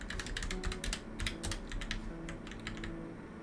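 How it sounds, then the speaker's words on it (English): Fingers tap quickly on a computer keyboard, an uneven run of close, crisp key clicks in bursts with brief pauses, steady and moderately quiet with no voices. "I just be typing"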